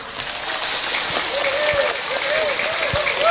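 Audience applause at an event in Pemalang, a steady dense wash of clapping throughout, fairly loud and close, with faint whistling tones rising over the crowd.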